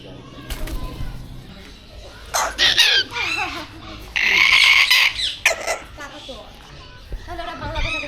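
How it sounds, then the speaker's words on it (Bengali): Yellow parrots at Mirpur National Zoo, loud shrill squawks and screeches in several bursts with chattering between, mixed with nearby voices and crowd sounds. "এপাশে কিছু হলুদ টিয়া রয়েছে এই দেখুন"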